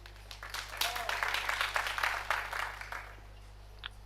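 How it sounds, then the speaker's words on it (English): Crowd applause at a professional pool tournament in Luxembourg, a moderate, steady patter of clapping that swells and then tapers over a few seconds, heard under a steady background hum and light voices. "Applause from the crowd"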